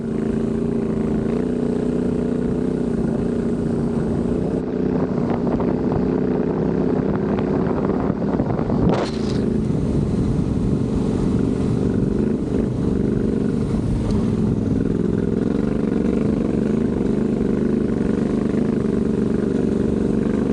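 A motorcycle riding a very sandy, rutted desert piste behind the Merzouga dunes in Morocco, its engine droning loud and steady throughout, with wind and rumble over the rough ground.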